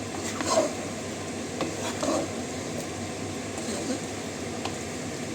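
A methi chicken mixture with green chillies sautés in a pan with a low, steady sizzle and a few soft scrapes of a spoon, moderately close and fairly quiet.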